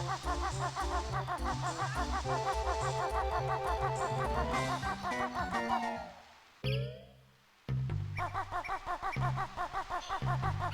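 Birds honk and squawk in rhythmic, repeating bursts in the video game Banjo-Kazooie, mixed with bouncy game music. The sound drops out briefly twice before resuming loud and steady.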